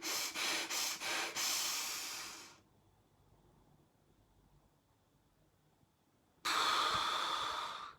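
Close, forceful breath work: a run of quick rhythmic puffs that flows into one long exhale, a few seconds of near silence, then another strong sustained rush of breath, with no talking.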